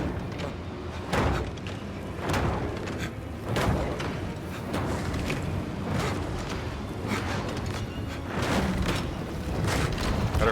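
Fire bursting and roaring in the Indiana Jones adventure game, a dense continuous rumble with repeated heavy whooshing surges and booms every second or so, loud and close with no talk over it.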